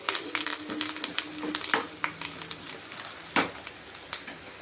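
A tempering of oil with turmeric, asafoetida and fenugreek powder for okra chutney sizzles and crackles densely, with bright pops and spits bursting over a continuous frying hiss, close by.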